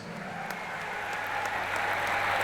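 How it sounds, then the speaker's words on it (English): Faint, steady crowd applause at the Summermania Strongman World Championship, a continuous patter of many hands swelling slightly toward the end. "So give him a big round of applause."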